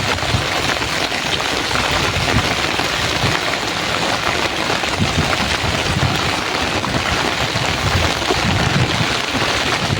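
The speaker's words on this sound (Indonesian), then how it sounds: "Pas hujan nih." Steady rain falls throughout, a dense, even hiss of drops on surfaces outdoors in a forest during a fishing and fern-gathering trip, loud and continuous with no talk.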